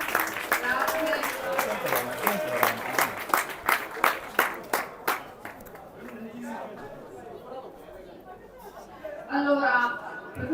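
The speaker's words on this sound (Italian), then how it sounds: "Facciamo un applauso a questi quattro classificati." Crowd applauding the fourth-place finishers at an under-19 youth football tournament's finals awards, with a burst of sharp clapping for about five seconds that fades into general crowd chatter and speech.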